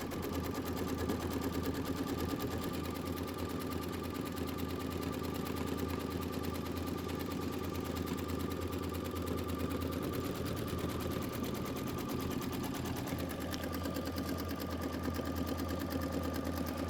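An embroidery machine stitches a tack-down line for a quilt block background, a fast, even mechanical whirring and needle chatter running steadily throughout with a brief change near the end.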